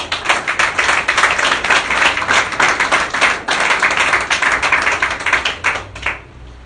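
A church congregation claps together in a loud, fast, steady rhythm for several seconds, a dense, close patter of hands that fades out at the end.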